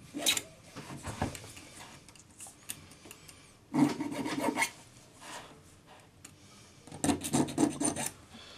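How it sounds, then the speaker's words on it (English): A hand file scrapes the metal prongs of a tapered collet in three main bursts of rasping strokes, close and clear, with quieter scraping between them and no talking. "just tidy up these prongs. So I'm basically filing it into"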